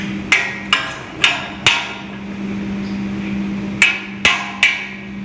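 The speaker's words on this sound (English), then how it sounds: "A little bit hammering is required," Seven sharp metallic hammer blows drive an electric motor's end cover into place during a fan motor overhaul, struck in uneven pairs and groups against a steady low electrical hum, close and loud.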